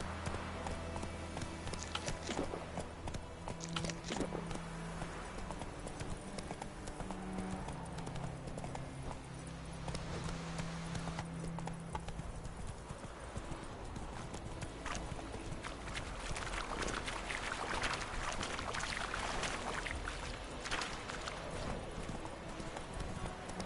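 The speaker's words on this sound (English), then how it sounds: "Whoa there, Roach" Horse hooves clip-clop in The Witcher 3 in a steady galloping rhythm under game sounds, with a faint voice speaking at times.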